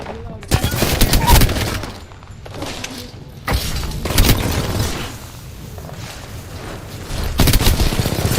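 Loud video game firefight with heavy bursts of rifle fire and booming impacts, the shots coming in clusters separated by brief lulls, while voices call out over the action.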